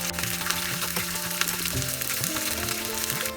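Green chili and ginger fry in mango pickle oil, a loud, dense, continuous crackling sizzle heard up close, with faint stirring underneath.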